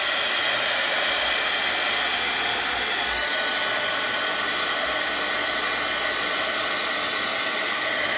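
A heat drying tool blows steadily on a wet Halloween scrapbooking tag, a loud, close, continuous whooshing hiss with no pauses and no talking.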